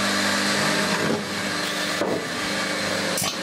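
A microwave oven with capacitors inside runs with a loud, steady hum, broken by a few brief clunks and shifts in tone.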